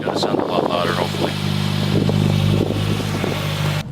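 A 2018 Subaru WRX idles through an Invidia N1 race single-exit exhaust with 3-inch piping, still breaking in, a steady deep rumble held close and loud throughout while someone talks over it.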